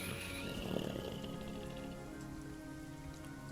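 Heavy rain falls in a steady, dense patter with scattered louder plops, close and continuous throughout, with no voices.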